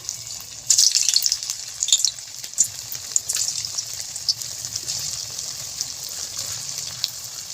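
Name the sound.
potato snacks frying in hot white oil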